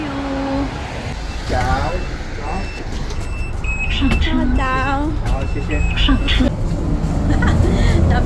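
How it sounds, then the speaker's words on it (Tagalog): A city bus pulls up to a stop with engine rumble, brake squeals and beeping, while people chat and call out goodbyes nearby throughout. "the bus is coming"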